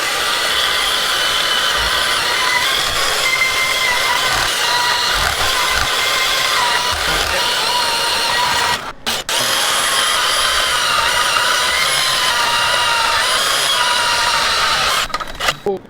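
A cut-off wheel grinds through metal with a loud, sustained high-pitched whine that briefly drops out midway, then resumes before tapering off at the end.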